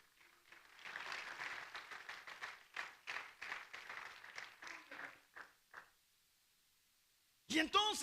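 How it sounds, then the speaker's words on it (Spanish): A church congregation claps for the Lord during a Spanish-language sermon, a dense, sustained patter of many hands that swells and then thins into scattered separate claps before fading to quiet, with a short burst of voices at the end. "denle palmas al Señor"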